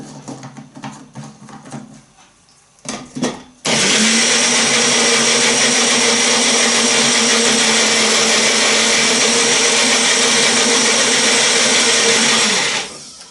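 A blender whirs through a raw vegan glaze with two tablespoons of raw coconut oil, a few short pulses giving way to a loud, steady motor whine that runs about nine seconds before cutting off.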